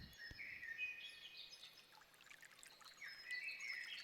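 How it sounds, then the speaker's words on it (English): Sampled rainforest birdsong layered over a trickling water-stream ambience in a music production session, with bright whistling calls sweeping up and down over a soft, steady watery wash. "Let's put here some birds from the rainforest, maybe."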